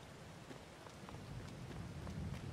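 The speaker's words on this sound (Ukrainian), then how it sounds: "Техніка під дощем." Steady rain patters on farm machinery in Farming Simulator 22, a soft, even hiss of drops with gentle low rumble underneath, growing slightly louder toward the end, no voices.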